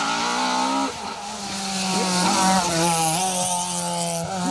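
Midlington-engined rally car on an asphalt stage of the Argyll Rally, loud and close as it blasts past, engine revving through gear changes while the tyres squeal sharply.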